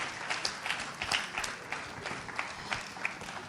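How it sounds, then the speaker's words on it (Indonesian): An audience at an academic seminar applauds while standing, a steady wash of many hands clapping at moderate distance, even and unbroken throughout. "Kita bangkit berdiri, kita kasih tepuk tangan ya."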